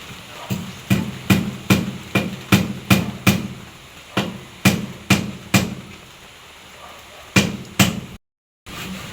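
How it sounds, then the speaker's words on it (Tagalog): Hammering nails while building a kitchen: a steady series of loud, close, ringing hammer blows at a brisk rhythm, pausing briefly before a few final strikes. "Isang naglalagari at isang nagpapako."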